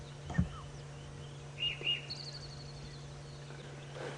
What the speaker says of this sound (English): That is a Karachani thrush.